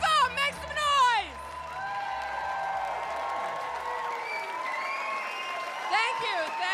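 A comedy club audience at Gotham Comedy Club applauds and cheers with sustained clapping and whoops, the crowd noise swelling near the start and again at the end while a host's voice carries over it.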